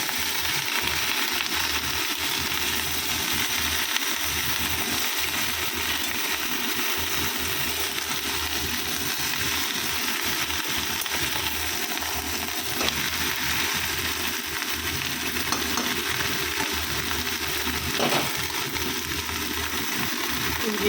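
Mixed greens — drumstick flowers, potato leaves and bottle gourd leaves — fry in a pan, giving a steady, even hiss throughout with no talk over it.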